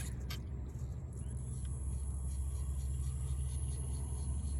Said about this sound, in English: Oh, sorry for the cars.